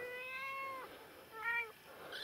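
Domestic cat meowing close by, one long drawn-out meow followed by a shorter one after a pause, fairly quiet in an otherwise still room.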